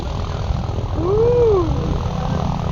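A twin-engine aircraft passes overhead at a former RAF airfield, its engine drone swelling to a peak mid-pass and fading with a sweeping pitch change, over steady background noise and without talk.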